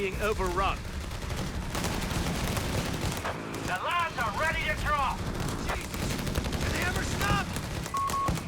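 Machine gun fire and other battle gunfire rattle continuously in the Company of Heroes 3 strategy game, a dense busy soundscape, with a voice talking over parts of it.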